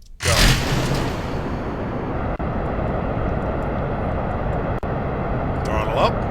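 Rocket engine firing in Kerbal Space Program, opening with a sharp loud burst of ignition that settles into a steady, broad roaring rush held throughout, close and dominant, with brief speech near the end.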